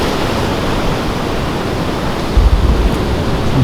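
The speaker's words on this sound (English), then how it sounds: "Some pretty big surf." Big ocean surf breaking on New Zealand's West Coast, swells of three to four metres, a steady loud roar of crashing water with a heavier surge near the end, no voices.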